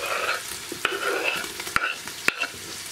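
Tomatoes and cauliflower frying in a pan on a stove at full heat, stirred with a utensil: steady close sizzle broken by a few sharp scraping knocks.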